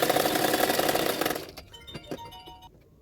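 A sewing machine stitching blouse fabric, running in a fast, steady whir for about a second and a half before stopping, followed by a few faint clicks and handling noises nearby.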